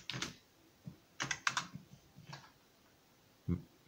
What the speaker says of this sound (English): let me just quickly type in and see what comes up with Magna Carta